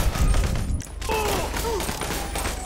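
Gunfire in the video game GTA 5, a dense burst of shots up front that cuts off, followed by a noisy stretch with steady low thumping and faint tonal sweeps.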